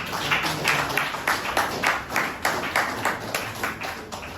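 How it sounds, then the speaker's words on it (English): An audience at a lecture event claps, a steady patter of applause whose claps are picked out in a loose beat and heard fairly close, with no voices over it. "Please a round of applause for all of them."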